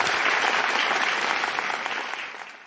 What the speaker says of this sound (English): Can I get a clap there?